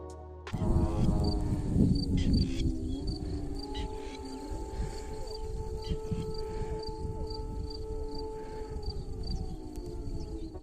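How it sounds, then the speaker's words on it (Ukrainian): A long, steady wailing air raid siren holds in the distance over Mykolaiv, Ukraine, faint but continuous, beneath outdoor wind and rustling by a river. "але потім настала повітряна тривога"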